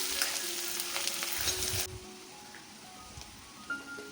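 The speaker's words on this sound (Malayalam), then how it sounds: "1 ടേബിൾ സ്പൂൺ വെളുത്തുള്ളി ചെറുതായിട്ട് അരിഞ്ഞതും ചേർത്തിട്ട് നന്നായിട്ടൊന്ന് ഇളക്കാം" Finely chopped ginger and garlic fry in oil in a pan for a pickle, with a bright, dense sizzle that drops sharply partway through and then settles into a softer crackle with occasional stirring clinks.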